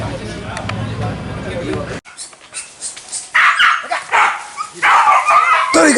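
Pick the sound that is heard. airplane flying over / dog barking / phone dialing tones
dog barking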